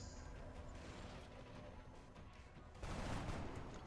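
Gunfire from a soldier's shot in the video game XCOM: Enemy Within (Long War mod), a rattling burst of shots that continues with a dense, rumbling crash near the end, heard alone without talk.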